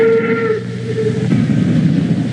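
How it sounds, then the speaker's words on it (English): A morning prison train running from Southern California into Mexico sounds a steam whistle: one sustained, fairly loud tonal blast lasting about a second, followed by the hiss and rumble of the train. "This is the morning prison train out of Southern California into Mexico."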